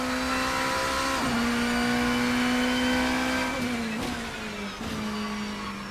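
Porsche 963 prototype race car in Assetto Corsa on the Nordschleife, engine droning steadily at high revs with several quick downshift blips and pitch drops, loud and continuous, with no talking.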